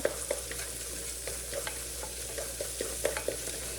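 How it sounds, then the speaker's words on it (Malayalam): Ginger fries in hot coconut oil while a spoon stirs it in the pan, giving a steady sizzle broken by repeated scraping and clacking strokes. "അതൊന്ന് ഈ വെളിച്ചെണ്ണയിലൊന്ന് നന്നായി വേവിച്ചെടുക്കുക കേട്ടോ."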